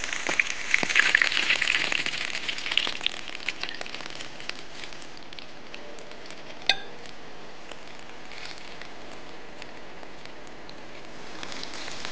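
Battered eggplant sandwich frying in hot oil, a steady close sizzle and crackle that is loudest at first and then settles into an even hiss, with one sharp pop partway through.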